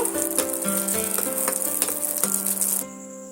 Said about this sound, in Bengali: এখানে দুটো শুকনো লঙ্কা অ্যাড করলাম আর আর এক চিমটি কাঁচা জিরে অ্যাড করলাম দিয়ে আমি সুন্দর করে ভাজা ভাজা করে দেব